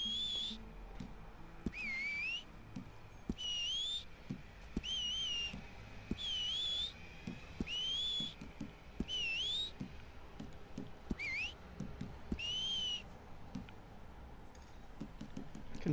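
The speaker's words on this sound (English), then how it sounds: "Whistle? They have a whistle? Oh yeah, there's a whistle, yeah." A whistle in the video game Red Dead Online sounds as a series of repeated bright, sliding two-tone whistle blasts spaced every second or so, over low background game noise and faint thumps.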